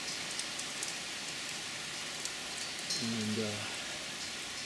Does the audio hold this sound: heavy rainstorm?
yes